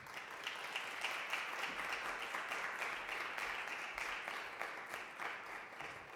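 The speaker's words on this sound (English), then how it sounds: "if we can give her another round of applause" An audience at a talk on racial disparities gives a presentation a sustained round of applause. The clapping is steady and dense, sounds somewhat distant, and carries on throughout with no talking.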